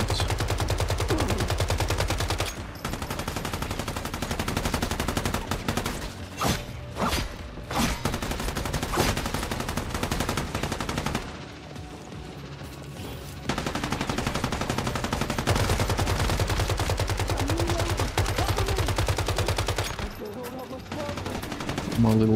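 Sustained bursts of rapid gunfire from a weapon in the shooter game Once Human during a junkyard fight, loud and dense for most of the stretch with a few brief lulls between volleys.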